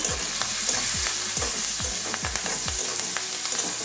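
Spice paste with turmeric and salt frying in hot oil, a steady loud sizzle with a rhythmic series of stirring scrapes roughly every half second, close up and with no voices.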